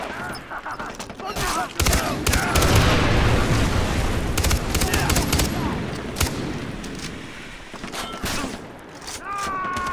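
Dense gunfire in Far Cry 3, with rapid bursts and single shots cracking repeatedly at close range through the whole stretch under a busy combat din, and a voice talking intermittently.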